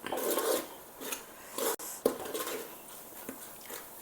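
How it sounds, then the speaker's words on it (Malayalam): Chicken curry masala with chilli and coriander powder is stirred in a pan, producing close, steady rasping scrapes of the spoon across the metal with a brief sharp knock midway, and no voices. "മുളകും മല്ലി ഇട്ടാൽ നമ്മൾ നല്ലപോലെ ഒന്ന് ഇളക്കി കൊടുക്കണം"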